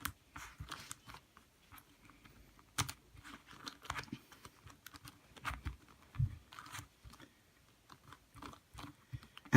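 Plastic clicks and clacks from twisting a lubricated Kilominx puzzle cube, irregular bursts of quick turns with short pauses, close up and alone.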